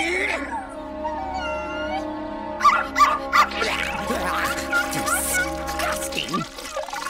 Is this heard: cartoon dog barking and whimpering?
yes